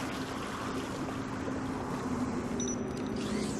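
In the video game Beyond a Steel Sky, water sprays from a tank as a steady, hissing rush that runs without a break, with a faint tonal hum beneath it.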